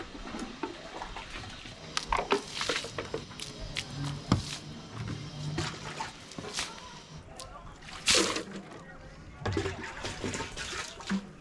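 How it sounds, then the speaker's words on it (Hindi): Water splashes and trickles in uneven bursts as a rooftop is watered by hand, with sloshing and spattering against a busy background and some talking in the clip. "थोड़ा सा ऊपर में जाकर पानी दे लेते पहले।"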